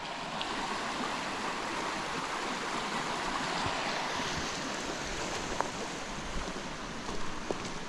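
A river near the village of Babuna flowing steadily, a continuous close rushing wash of water with no voices.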